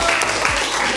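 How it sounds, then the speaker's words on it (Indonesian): Classroom applause during a geography lesson, a brief burst of scattered hand clapping, close and fairly loud, lasting about a second. "Oke, tepuk tangan."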